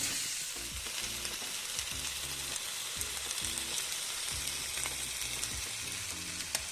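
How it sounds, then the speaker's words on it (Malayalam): Two mackerel sizzling and crackling in a hot oiled pan, a steady dense fry noise with occasional utensil stirring and clinks, close and continuous with no talking. "ഞാൻ ആദ്യം 2 അയല മാത്രമാണ് ആദ്യം ഫ്രൈ ചെയ്യാൻ കരുതുന്നത്."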